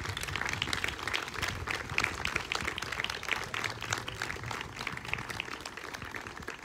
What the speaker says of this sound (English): let's extend some applause welcoming them.